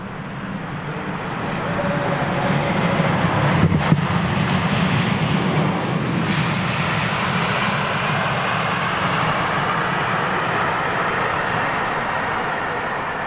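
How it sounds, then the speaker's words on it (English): Jet airliner landing at London Heathrow Airport with little thrust, a loud, steady broad roar that fills the whole stretch without fading, with a faint hum running beneath. "as you can tell from today's landing jets, very little thrust activity going on"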